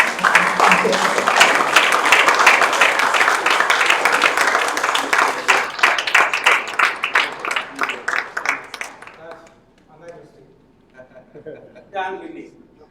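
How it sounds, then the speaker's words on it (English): An audience claps at a formal ceremony: a dense burst of applause that thins into scattered claps and fades out, after which a voice speaks quietly over the remaining clapping. "I think we need to cheer him with a big round of applause"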